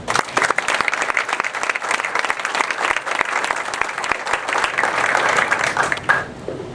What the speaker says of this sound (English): I'd ask everybody to give Colleen a hand of applause.